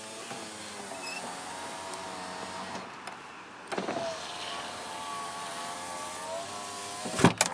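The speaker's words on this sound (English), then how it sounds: "It's got power windows on all four." A 2002 Honda Accord's electric windows whirring as the motor runs, several passes of a steady whine close by, with clunks as the glass stops and a sharp knock near the end.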